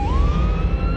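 An ambulance siren wails in one steady, loud rising tone over low rumbling noise, close by, with no voices.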